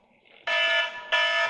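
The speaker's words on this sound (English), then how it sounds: "There's another alarm." An indoor alarm sounds two loud, bright electronic tone bursts, one right after the other. A low murmur is heard before the first burst.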